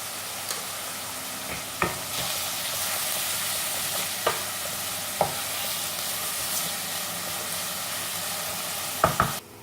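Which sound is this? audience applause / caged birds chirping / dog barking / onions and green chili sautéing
onions and green chili sautéing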